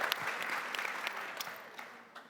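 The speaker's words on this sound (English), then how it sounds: "we can clap for that." An audience bursts into steady applause during a panel session at the ArabCon 2025 conference, a dense, close wash of clapping that carries through the whole moment and tapers slightly at the end.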